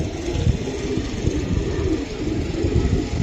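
Pigeons cooing at a racing pigeon farm, a continuous low murmuring coo from many birds blending into a dense, steady background wash at moderate loudness.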